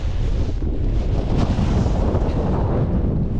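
Strong wind buffets the microphone on an exposed mountain summit at Swirl How in the Lake District, a loud, continuous roaring gust with no let-up and no voices.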